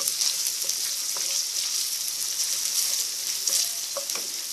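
Huitlacoche and corn kernels fry in a pan with a steady close sizzle and occasional pops and stirring sounds, no voices over it.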